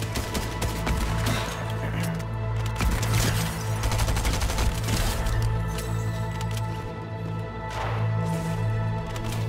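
Gunfire in the video game Fortnite, heard as dense, overlapping bursts of rapid shots over a loud, continuous game soundscape, with no voices.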